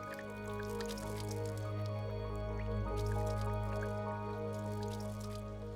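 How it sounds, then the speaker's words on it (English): Water poured onto the broad leaves of a taro plant trickles and drips, soft, scattered droplet sounds over a quiet steady background hum, fairly close and gentle. "Watch what happens when I pour water on them."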